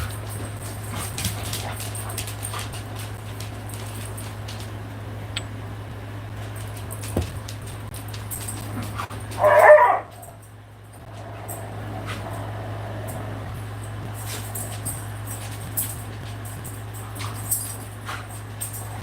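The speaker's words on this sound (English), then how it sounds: "We can't see the fighting between the two doggos." Two dogs scuffle during a livestream, with a short loud snarling burst standing out above a steady background hum and faint noises, followed by quieter whimpers.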